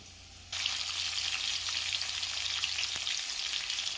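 Garlic, dried and green chillies, tomato, onion and coriander leaves dropped into a hot pan, bursting into a loud, steady hiss that holds without break, close up and with no voices.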